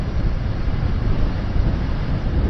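Loud, steady wind on a road in the Male Mahadeshwara Hills, Chamarajanagar, buffeting the microphone, a constant low roar with gusty fluctuations throughout and no other sounds.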